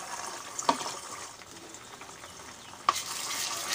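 Eggs fry in a pan for egg fried rice, a soft constant sizzle broken by two sharp spoon knocks against the pan as they are stirred.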